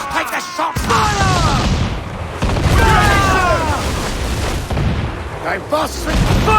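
Ship cannons in Assassin's Creed IV Black Flag boom loudly in heavy, overlapping blasts during a naval battle, while crew members shout over the barrage.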